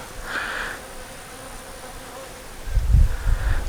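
Honeybees hum at a hive as they fill comb with nectar, a soft continuous buzz with occasional closer wingbeats and handling thumps near the end.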